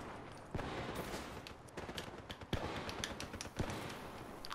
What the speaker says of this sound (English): I'm being sniped from far away